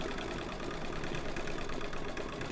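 A home embroidery machine stitches metallic thread into a Halloween haunted house quilt block, giving a continuous fast, even mechanical whir and rattle, steady and fairly quiet, with no voices.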